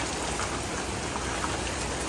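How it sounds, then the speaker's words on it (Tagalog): Heavy typhoon rain pours steadily with wind, a dense, continuous hiss of drops striking surfaces with no pauses. "Sobrang lakas pa rin po ng ulan."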